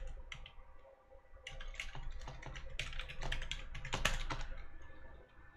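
Rapid keystrokes on a computer keyboard as a password is entered, a quiet, close run of uneven clicks and taps with short pauses and bursts, no voices over it.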